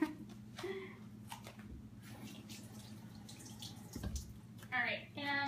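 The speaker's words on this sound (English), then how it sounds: "so now I need to rinse" Running tap water rinsing raw egg off hands at a kitchen sink while mixing dog treats from flour, egg and canned salmon; a steady wash of flowing water with brief splashes and handling noises, ending in a few louder bursts.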